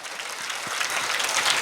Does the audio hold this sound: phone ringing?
no